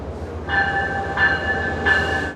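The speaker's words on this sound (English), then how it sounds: "This is our California Zephyr train behind me. We just arrived here." Rumbling of the Amtrak California Zephyr passenger train arriving at Denver station, with steady, ringing tonal hums that swell in pulses, no talking.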